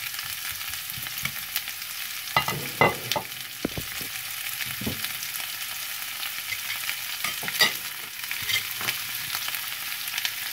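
Chopped chayote frying in a pan with shallot and garlic, a steady sizzle with scattered sharper crackles and stirring clicks throughout, close and moderately loud.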